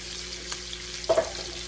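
Onions fry in grease in a pan on a stove top, giving a soft, steady low sizzle with one brief utensil scrape partway through.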